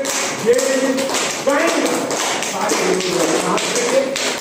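Steady, continuous hand clapping comes from a group at a yoga session. It is loud and dense and runs under a speaking voice throughout.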